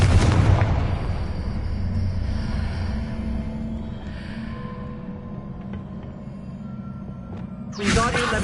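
A Confringo fire spell from the Hogwarts Legacy video game goes off with a loud, sustained rumbling blast, rolling on and slowly fading before a sharp new burst near the end.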